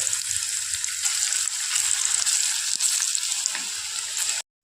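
Raw banana kofta balls fry in hot oil in a kadai over lowered heat, making a loud, continuous close-up sizzle with faint crackles that stops abruptly just before the end.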